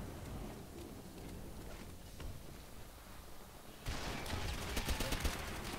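Gunfire in the video game World at War: dense broadband shooting crackles throughout, growing louder and busier in the last two seconds with sharp repeated bursts.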